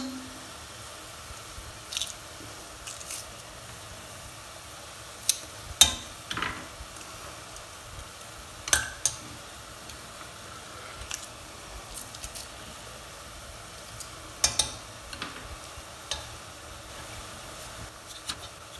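Quiet frying with a soft sizzle as ground meat for chili con carne cooks, broken by scattered scraping clicks of a utensil stirring it in a pan.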